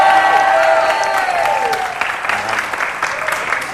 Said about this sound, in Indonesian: Tepuk tangan sekali untuk Yoga.